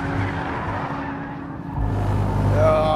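A 2013 Nissan GT-R Black Edition with 550 horsepower and all-wheel drive pushed hard around a race track, its engine droning close by, dipping briefly, then surging louder with a rising tone near the end.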